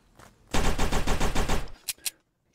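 Rapid automatic gunfire in the zombie survival game Last Hope Bunker: a loud, tight burst of about a dozen evenly spaced shots lasting just over a second, followed by two sharp separate cracks, with no talking.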